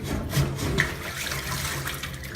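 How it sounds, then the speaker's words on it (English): A plunger pushes repeatedly into a blocked sink drain, water gurgling and sloshing in a close, wet churning sound. "grab your plunger and simply push down. You'll hear it making a guggling noise"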